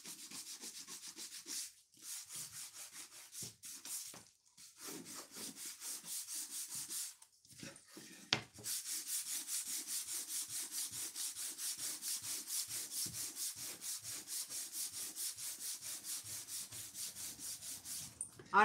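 Steady rhythmic rasping of sandpaper rubbed back and forth on wood, close and continuous, pausing briefly a few times before resuming in even strokes.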